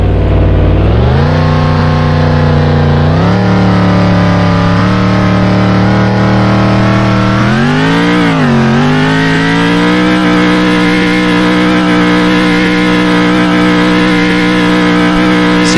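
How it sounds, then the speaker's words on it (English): A GT race car engine at Daytona roars from close up through a lap, revving up in a rising pitch, dipping at gear shifts and holding a high, loud, continuous note, with no talk. "I'll run a lap in these cars to show you guys what it's like"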